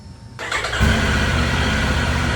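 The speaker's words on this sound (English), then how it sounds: "we're going to start this bike up now" A 2023 Triumph Tiger 900 motorcycle engine fires up close by: a brief cranking whir catches into a loud, steady, throbbing idle that holds to the end, with no voices.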